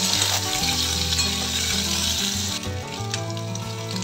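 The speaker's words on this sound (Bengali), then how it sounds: "কুঁদরি লো হিটে ভাজা যাবে না, একটু মিডিয়াম হিটেই ভাজতে হবে" Steamed ivy gourd (kundri) frying in mustard oil with dried red chillies, bay leaf, panch phoron and turmeric over medium heat gives a loud, continuous sizzle and crackle, close up with no talking.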